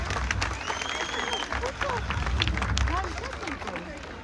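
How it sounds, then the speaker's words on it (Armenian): Audience at an outdoor town concert in Stepanavan applauding the community head, a steady wash of clapping and crowd noise with scattered voices throughout. "Մեկ անգամ եւս ծափահարենք մեր համայնքի ղեկավարին"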